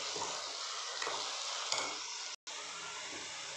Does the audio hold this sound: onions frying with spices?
yes